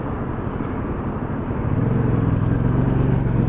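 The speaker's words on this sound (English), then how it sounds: "what it feels like to be riding this bike on the freeway without a windscreen" A 2016 Yamaha FZ-07/MT-07 motorcycle rides on a freeway, a loud, steady engine drone mixed with heavy wind rush that deepens into a stronger throbbing hum partway through.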